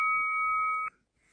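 A phone gives off a single sustained electronic beep, a steady two-tone pitch lasting just under a second before cutting off abruptly into near silence.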